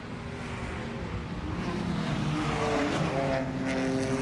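A BMW endurance race car at open throttle sliding through a corner at New Jersey Motorsports Park, a sustained loud engine roar with rising pitch and a hint of tire scrub, no voices over it.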